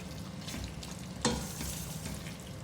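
Mutton qeema karahi with julienned ginger and long-cut green chili stirred in a pan, a soft steady sizzle with one sharp scrape of the spoon partway through.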